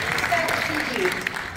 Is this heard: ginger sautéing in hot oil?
no